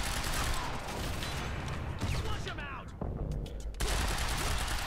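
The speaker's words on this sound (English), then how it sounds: "someone is shooting" Gunfire rattles in the video game Quantum Break: rapid bursts of shots crackle near and loud over a noisy firefight, with a brief lull before the shooting resumes.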